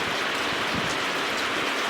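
Steady rain falls across the whole stretch, a dense, even hiss of drops striking surfaces, fairly close and continuous with no voices.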